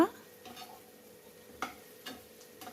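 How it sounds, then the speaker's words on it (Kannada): Vegetables fry in a pan with a quiet, steady sizzle, broken by a few soft scrapes and taps of a stirring spoon against the pan. "ನೀಟಾಗಿ ಎಲ್ಲ ಒಂದು ಕಡೆಯಿಂದ ಫ್ರೈ ಆಗ್ತಾ ಇದೆ"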